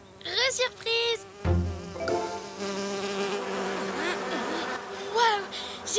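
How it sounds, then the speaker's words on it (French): Cartoon flies buzz around a cup of marula juice, a steady insect drone continuing under animated voices and music, with short character exclamations at the start and end. "Je déteste les choses qui bourdonnent!"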